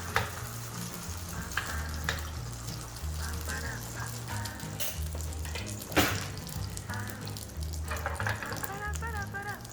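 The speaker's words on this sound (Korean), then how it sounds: "기름을 두르고 제일 먼저 할 거는 지단부터 붙일게요." Beaten egg poured into oil in a pan for thin garnish sheets sizzles and crackles steadily in the background, with scattered clinks and a sharp knock partway through, under faint low room noise.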